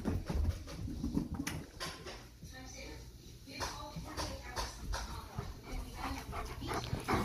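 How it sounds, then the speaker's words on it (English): A big dog plays fetch, trotting back with a ball; shuffling paws, soft whimpers and yips blend with steady movement noise while someone talks warmly to it throughout. "it's a big doggo"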